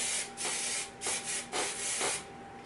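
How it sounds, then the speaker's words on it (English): Aerosol hairspray hisses out in several close bursts, short sprays separated by brief gaps, bright and airy. "I'm just going to go ahead and spray"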